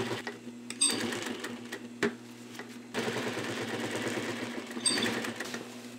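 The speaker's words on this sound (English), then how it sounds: "I'm gonna sew the back panel in first." Sewing machine stitching the back panel of a fabric cover for shop equipment, running in a fast steady needle chatter with a short pause and brief stop-start clicks, close and alone.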